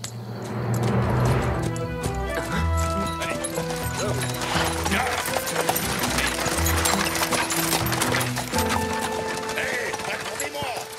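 Cartoon horse hooves clip-clop in a busy animated scene, a trotting rhythm mixed with music and sound effects while voices speak over it.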